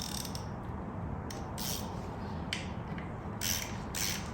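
A ratchet tightens the oil drain bolt on a 2022 Honda Grom 125 during an oil change, with short bursts of clicking repeated several times, close and fairly quiet over a steady hiss.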